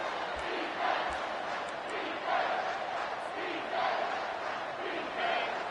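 Stadium crowd in the College Football 25 video game, a steady far-off roar that swells in waves as fans get loud for a red zone defensive stand.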